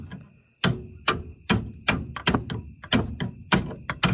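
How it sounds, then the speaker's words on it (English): A series of sharp metallic taps, about ten in irregular rhythm, each a close, crisp knock with a short ring, from a body hammer striking a part on a 1997 Eclipse. "I like using a body hammer doing this"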